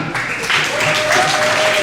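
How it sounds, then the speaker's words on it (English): A school assembly crowd applauds students with dense, loud clapping that fills the short stretch, a whistle-like tone rising briefly within it. "give these guys a round of applause"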